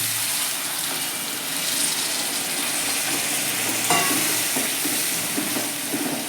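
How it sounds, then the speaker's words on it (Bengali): Hot water poured into a pan of frying taro (arbi) and spices, giving a steady close hiss and sizzle with a watery rush and a few faint clinks. "এবার আমি এখানে একটু জল গরম করে রেখেছি গরম জলটা দিয়ে দেবো"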